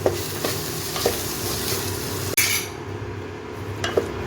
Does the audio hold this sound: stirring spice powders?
yes